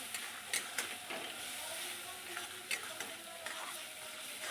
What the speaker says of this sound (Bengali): অল্প করে জল দিয়ে আর একটু কষিয়ে নেব।